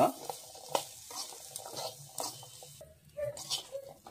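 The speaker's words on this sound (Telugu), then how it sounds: "ఈ చోలే చనాను కూడా ఇందులో యాడ్ చేసుకొని మంచిగా అయితే మిక్స్ చేసుకోవాలి" Chickpeas (chole chana) for chaat are stirred in a pan over a low flame, making soft scraping and clicking sounds with faint sizzling beneath, close and quiet, in an uneven rhythm.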